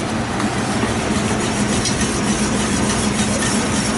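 A whisk stirs a thickening sauce in a pan, giving a continuous, busy scraping and swishing noise at close range with no pause over a few seconds.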